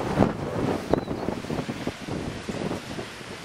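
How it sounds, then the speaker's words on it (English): A waterfall at Waratah, Tasmania, on a chilly day gives a continuous broad rushing roar, close and steady, with gusty rumbles mixed in and no voices. "and there's a waterfall."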